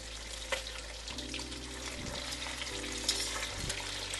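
Catfish sizzles steadily in a pan of hot oil, a close, continuous crackle with occasional small pops and clinks.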